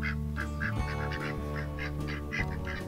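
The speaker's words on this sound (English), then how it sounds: "Here are the ducks." Pet ducks by a small pool quack and honk loudly and close up in a run of repeated nasal calls, with no voices.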